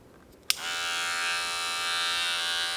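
An electric hair clipper with a purple guard attached switches on with a sharp click, then holds a steady, close, high-pitched buzzing whine to the end.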